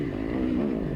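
A dirt bike passes during a hare scramble race, its engine a loud, steady buzzing drone held close for about a second with no break, no talk over it.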